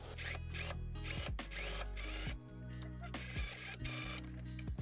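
Sewing machine stitching the side seam of an embroidered wedding dress, a steady close whirring run with mechanical tones and brief changes in pace, no talking.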